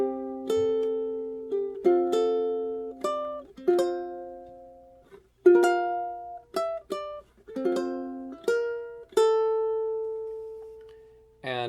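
Ukulele played fingerstyle, the first bar of the lullaby Slumber My Darling played slowly as separate plucked notes and soft chords ringing out, quiet and close with no talk.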